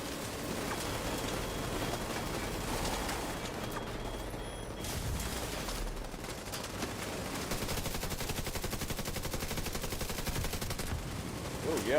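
Automatic turret in the shooter game The Division 2 firing a continuous dense stream of rapid gunfire, loud and unbroken, mixed with other in-game combat noise.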